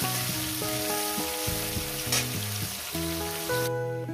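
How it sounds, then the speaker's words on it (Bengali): Small fish fry in hot oil in a pan, a steady close sizzle heard alone beneath a faint musical tone. "মাছগুলো আমি লাল লাল করে ভেজে নেব।"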